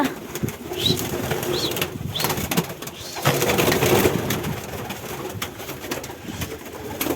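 Pigeons cooing and fluttering nearby, soft throaty calls repeating over a busy rustling background, with occasional wing flaps.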